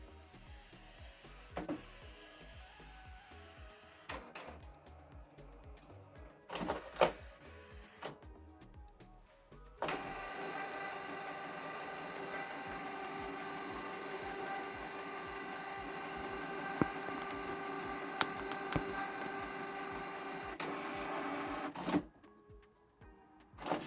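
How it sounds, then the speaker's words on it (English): A Canon PIXMA G3410 inkjet printer prints a page with a series of mechanical whirs and clicks, short bursts at first and then a longer steady feed run before stopping, heard close up. "The second page is printing."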